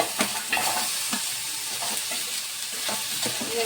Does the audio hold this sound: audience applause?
no